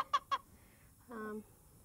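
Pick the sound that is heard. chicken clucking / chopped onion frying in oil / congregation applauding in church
chicken clucking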